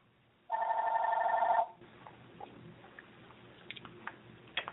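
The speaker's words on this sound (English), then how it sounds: "the phone is ringing" A telephone rings once in a loud burst of about a second, a bright electronic trill standing out against a quiet room, followed by faint scattered clicks and rustles.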